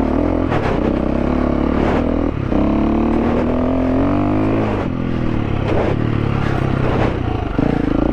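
A 2022 KTM 350 EXC-F dual sport motorcycle engine pulls under throttle off-road, loud and close, with a continuous droning note that rises and dips as the revs change over rough ground.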